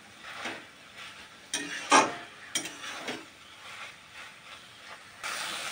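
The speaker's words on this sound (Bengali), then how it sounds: "এভাবে আমি নেড়ে চেড়ে, আমার এটা কিন্তু সেদ্ধ হয়ে গেছে।" Cooked taro stolons being stirred with pressed dried fish in a pan, giving soft scraping and clacking strokes with a louder clatter near the middle and a faint sizzle underneath.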